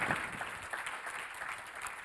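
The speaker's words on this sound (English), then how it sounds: "A big applaud for Oscar and Fredrik." Audience applause after a presentation at a Science Park update event, a steady dense wash of clapping from many hands filling the room, fairly loud and even throughout with no voices over it.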